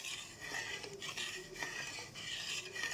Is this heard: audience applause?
no